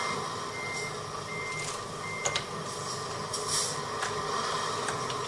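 Repeated reversing beeps from a truck in Euro Truck Simulator 2, a regular electronic pulse over a steady engine drone, with a few sharp clicks and a brief hiss.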